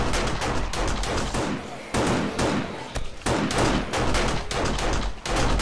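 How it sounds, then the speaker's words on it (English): Automatic turrets blasting away at hordes of zombies in the survival game 7 Days to Die, a loud, dense barrage of rapid shots in continuous bursts with short gaps, voices faintly mixed in. "Look at our turrets are just going nuts."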